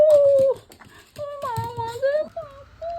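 A dog whimpers and whines close by in high, wavering cries, with a voice murmuring in the background.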